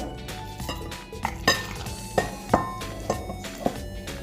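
Burong tilapia, a fermented fish from Pampanga, is sautéed in a pan, with a soft sizzle under repeated metal spatula scrapes and clinks against the pan in an uneven stirring rhythm.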